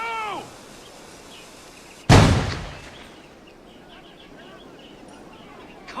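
A grenade explodes in the Assassin's Creed IV Black Flag game, one sharp loud blast that decays over a couple of seconds, with birdlike calls faintly before and after.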